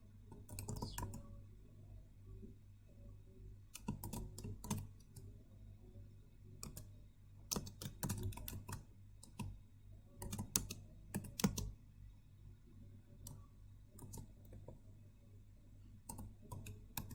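Rapid irregular clicks of typing on a computer keyboard come in bursts with short pauses over a steady low hum, with no voices.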